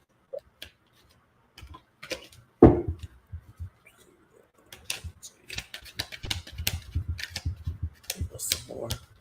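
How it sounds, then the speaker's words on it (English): Cards are pulled from a deck: a sharp riffle and snap followed by a run of quick rustling flicks and shuffling clicks, close and moderately loud. "Let me pull a couple cards"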